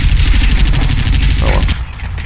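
Continuous automatic gunfire from the shooter game Bet on Soldier, a loud unbroken stream of rapid shots that cuts off near the end.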